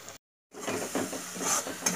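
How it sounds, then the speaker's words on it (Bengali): Turmeric, chilli and cumin-coriander powders are stirred in a pan for matar paneer, producing soft scraping and a faint sizzle after a brief silent gap at the start. "খুব ভালো করে কষিয়ে নেব"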